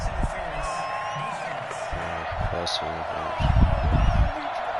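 In a Madden football video game, a stadium crowd reacts angrily to a face mask penalty, a rising wave of boos and jeers that swells near the end beneath a commentator's talk.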